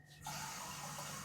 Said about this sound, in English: I'm gonna put a splash of cold water in this.